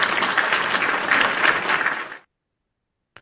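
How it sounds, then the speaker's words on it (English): A live trading broadcast audience gives a round of applause, a dense burst of clapping lasting about two seconds before cutting off abruptly into silence. "Let's give these guys a round of applause for a couple of great trades."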